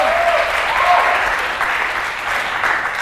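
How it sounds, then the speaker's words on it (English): An audience at a church congress game show claps loudly and continuously, a dense, even burst of applause that fades slightly toward the end. "Applaud,"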